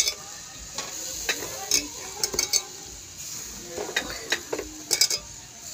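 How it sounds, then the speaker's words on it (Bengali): Soybean chunks frying in bubbling spice paste in a pan, with a low continuous sizzle broken by sharp scraping and clinking strokes of a spatula against the pan in uneven bursts, close up and without talk. "দিয়ে এবারে নাড়াচাড়া করে সোয়াবিনটাকে আমি ভালো করে কষিয়ে নেব"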